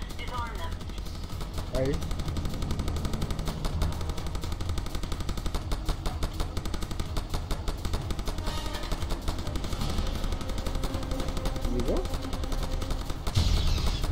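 Continuous rapid gunfire in the modded video game Just Cause 2, a dense, loud, unbroken stream of shots lasting throughout, with a brief spoken word and some talk underneath.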